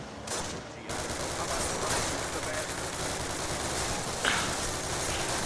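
A dense, continuous roar of Thompson submachine gun and battlefield gunfire from a World War II Call of Duty game plays throughout, loud and unbroken, with a brief gap at the start.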